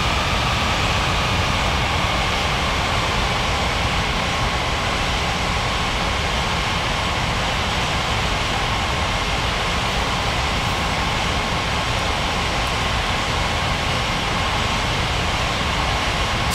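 An airliner rolls down runway 23 for takeoff in an air traffic control game, its engines holding a loud, steady roar and whine for the whole stretch with no voices over it.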